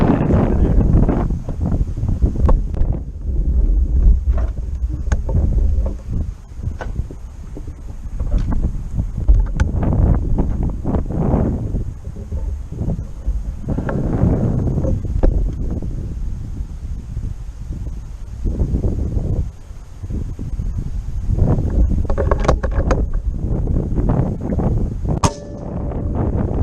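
Strong wind blows outdoors on a rooftop, roaring steadily into the microphone for over twenty seconds, with occasional clangs and knocks mixed in.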